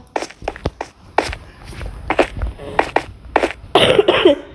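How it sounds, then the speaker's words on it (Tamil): A series of sharp, short coughs in quick succession, fairly close and loud, with a few shuffling steps in between, while playing Minecraft. "இந்த இருமல் வேறு எரிச்சல் படுத்துது"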